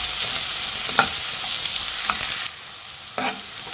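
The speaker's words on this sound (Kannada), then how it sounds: "ನೋಡಿ, ಈರುಳ್ಳಿ ಫ್ರೈ ಆಗಿದೆ" Onion with green chilies fries toward golden brown, a close, even sizzle punctuated by three distinct stirring knocks, the hiss dropping noticeably partway through.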